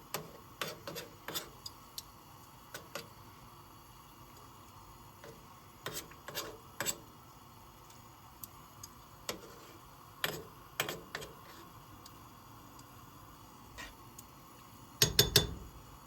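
A spatula scrapes and taps as it smooths rice in a cooking pot, in scattered short scrapes and clicks with quiet pauses between, and a louder clatter near the end.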